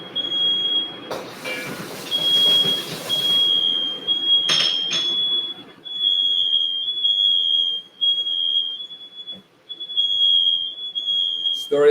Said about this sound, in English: I set the alarms off.